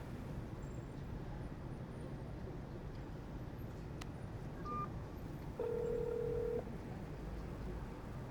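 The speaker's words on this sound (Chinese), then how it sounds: "我打电话。" A couple of short electronic telephone dialing tones over a steady hum of traffic noise, one longer beep standing out clearly.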